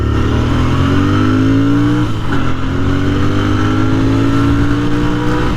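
A Royal Enfield Interceptor 650 twin accelerates hard on the road, engine note rising through one gear, dipping at a quick shift, then climbing again under loud, steady wind rush.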